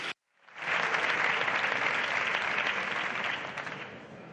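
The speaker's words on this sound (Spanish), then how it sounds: "significativos estos aplausos del Grupo Podemos a Bildu" Applause breaks out among deputies in the Spanish Congress of Deputies during a plenary session, a dense burst of clapping that swells quickly, holds steady, then tapers slightly toward the end.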